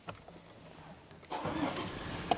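Toyota Land Cruiser 2.8 D-4D diesel firing up by keyless start, a quiet cabin with faint clicks before the engine catches and settles into a low steady run, ending with a soft click.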